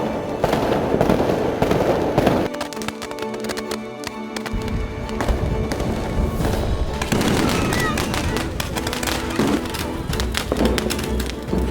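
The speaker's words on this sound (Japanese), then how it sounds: "新年を祝おうとですね、先ほどから花火が至る所で打ち上がっています。" Fireworks going off all around during Chinese New Year celebrations, dense crackling bursts and pops at varying distances, continuous and loud, with brief quieter moments between volleys.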